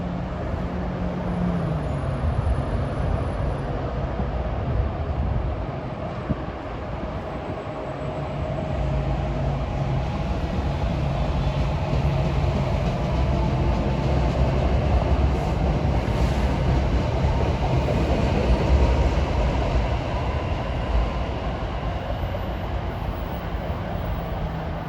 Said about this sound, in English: And we have a set of Arrow MUs for Dover at 5:18.